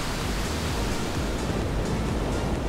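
Steady ocean surf blends with rustling trees in a dense, even wash of noise, constant and fairly loud with no distinct events or voices.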